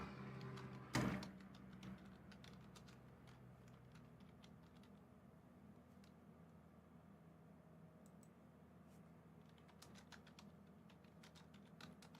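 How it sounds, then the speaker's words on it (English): Faint, scattered keystrokes on a computer keyboard tick over a low steady hum, after an initial loud thump, quiet and somewhat distant. "I'm typing out some stuff now."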